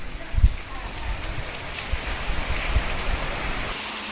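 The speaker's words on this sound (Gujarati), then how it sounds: "તો અમરેલીના ધારીમાં વરસાદ વરસી રહ્યો છે, ક્યાંક ધીમી ધારે તો ક્યાંક ધોધમાર વરસાદ." Rain falling in Dhari, Amreli, a dense steady patter of drops on surfaces with occasional louder splashes, continuous and fairly loud throughout.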